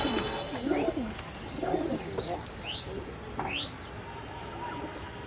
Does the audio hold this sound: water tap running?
no